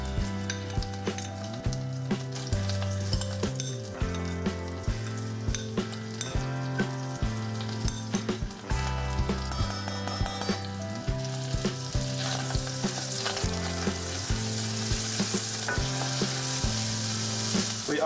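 Garlic sizzles steadily in melted butter in a pan, a continuous close frying hiss over a strong background of music, with no talking.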